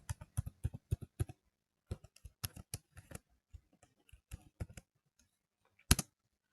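Quiet keystrokes on a computer keyboard as a shell command is typed, bursts of rapid clicks separated by short pauses, ending with one sharper tap like an Enter key, close and alone.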